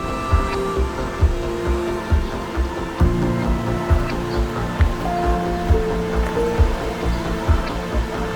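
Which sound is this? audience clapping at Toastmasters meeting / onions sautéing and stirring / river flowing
river flowing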